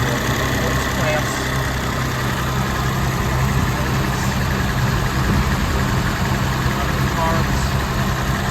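A 1972 BMW Bavaria with tuned carburetors idles after a cold start, a steady low rumbling engine note with an even vibration that holds throughout, close to the microphone.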